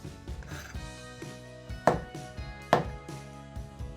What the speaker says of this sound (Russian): Шампиньоны режем крупными кусочками.